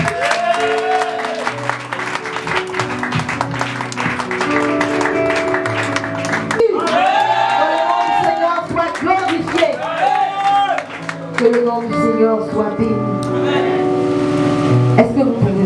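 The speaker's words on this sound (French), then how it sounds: "une forte acclamation à l'éternel" A church congregation at a worship service cheers and claps amid loud, tonal voices and whoops, a dense, continuous crowd roar with music-like tones running throughout.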